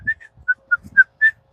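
A person whistles a short, bright tune of six quick clear notes at a sawmill, close and alone with faint handling noise between notes.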